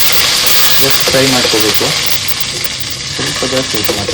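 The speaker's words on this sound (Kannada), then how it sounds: "ಸ್ವಲ್ಪ ಮೆಣಸು और ಬೆಳ್ಳುಳ್ಳಿ ಆಯಿತು. ಅದನ್ನು ಸ್ವಲ್ಪ ಫ್ರೈ ಮಾಡ್ಕೋಬೇಕು." Chili and garlic sizzling in hot oil in a pan, a steady loud hiss and crackle throughout while a person talks over it.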